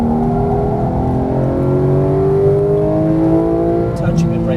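A Porsche 911 GT accelerates at full throttle around the Exotic Racing Las Vegas track, engine note steadily rising and loud throughout, with an instructor's voice talking over it.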